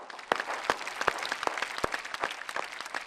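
Audience clapping at an Urdu shayari poetry recital, light and scattered with sharp individual claps at uneven intervals, fairly faint and without talk over it.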